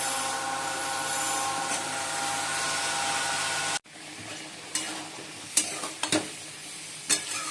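Lentil fritters go into a pan of cooking meat curry, a steady loud sizzle cutting off abruptly, followed by quieter frying and several sharp scrapes and knocks of a stirring spoon.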